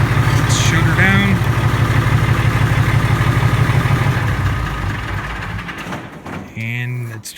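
A tractor engine idles with a steady low rumble, then winds down and stops near the end, followed by brief quiet and some clatter.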